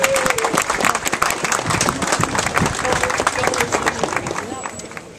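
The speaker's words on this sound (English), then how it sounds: "Round of applause for our Morning Star Rose." Audience applause with a few cheers at the Bloomsday celebration in Bruff, a dense steady clapping from a crowd, close and loud, with voices mixed in throughout.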